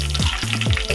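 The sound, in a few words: cumin and green chillies frying in hot oil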